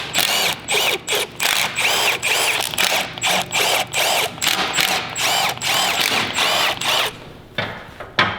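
A power tool works loose the bolts of an engine oil pan on a car, firing in a long run of rapid, evenly spaced loud bursts with brief gaps, then falling quiet near the end.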